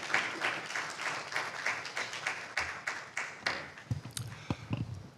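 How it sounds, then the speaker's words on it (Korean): Audience applause at a science journalists' conference session after a speaker's introduction, a steady patter of many hands clapping for about five seconds that thins into scattered claps near the end. "박수 부탁드리겠습니다."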